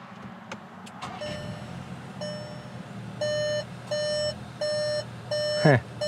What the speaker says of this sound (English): Beeping at me already.